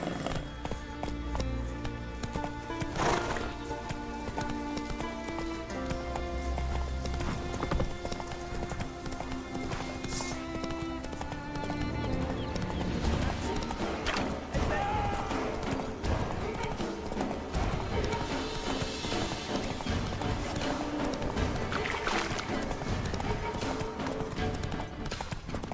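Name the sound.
horse hooves galloping in video game The Witcher 3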